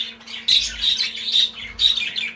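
Pet cockatiels in a cage chirping in repeated bright, shrill calls, close and fairly loud, coming in several bursts over a low steady hum.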